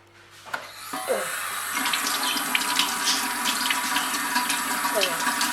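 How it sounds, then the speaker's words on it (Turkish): Tap water runs steadily into a sink as paint is rinsed off hands, a loud continuous gush starting after a brief click and staying close and even, with a few splashes over it. "Hemen suyla yıkayacağım."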